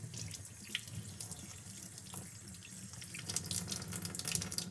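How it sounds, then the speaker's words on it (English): Tap water runs continuously into a sink as a hydration pack reservoir cap is rinsed, a steady close splashing hiss with small drips and handling noises over it. "If you have a cap, make sure that you rinse it out too."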